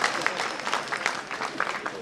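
Audience clapping at a Hindi comedy poetry show, a brief burst of scattered claps rising and fading over about two seconds, with some crowd voices mixed in.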